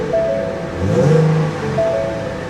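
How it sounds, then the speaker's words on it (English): A hail-damaged Audi A8L Quattro engine at a salvage yard revs briefly twice, a modest swell of engine roar rising and falling over a steady idle, close by. "Let's give it a little rev."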